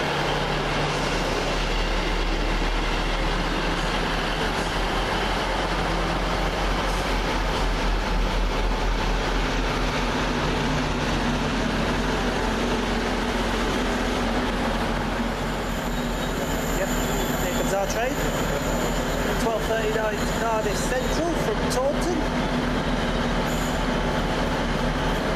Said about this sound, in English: Delayed 1221 First Great Western service from Cardiff Central to Taunton